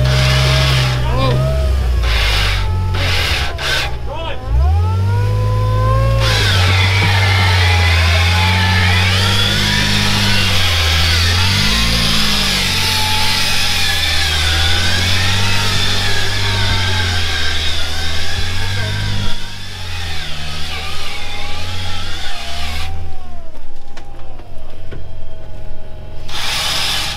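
A 4WD vehicle's engine revs and labours while driving and winching up a steep bush track, a loud droning roar that rises and falls in pitch, with voices calling out over it.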